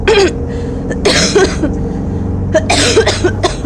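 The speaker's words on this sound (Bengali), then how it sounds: "ম্যাডাম, আপনি কাশছেন কেন?" A woman coughs close by, two harsh bursts of several rapid hacking coughs each, separated by a short quiet gap.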